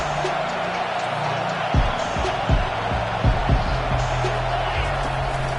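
A stadium crowd at a football game makes a continuous roar of cheering for the defense, with a few sharp thumps and noise bursts rising above the steady crowd wash.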